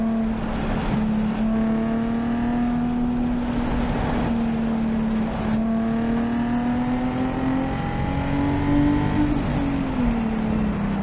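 A modified Nissan 370Z engine pulls hard on a race track, a loud steady drone rising in pitch through the gears with a brief dip at a shift, close and continuous, no voices.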